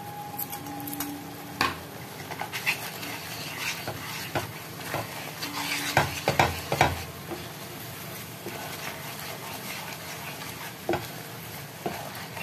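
Paneer butter masala sizzles in a frying pan while being stirred, a steady soft frying hiss broken by scattered clinks and scrapes of the spoon against the pan, close and fairly quiet.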